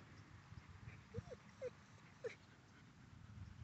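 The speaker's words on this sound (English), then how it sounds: "Amber, are you whimpering at the Mormon dove?" A dog whimpers faintly indoors, a few short high whines breaking through a soft wind-like background hiss.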